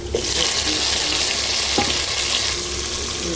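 Onions sizzle steadily in hot oil in a pan while a mutton curry is being cooked, a close, continuous hiss and crackle with a few soft stirring knocks.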